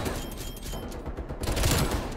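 TEC-9 fire in a first-person shooter video game rattles in a loud, dense stream of rapid shots, swelling toward the end of a short burst.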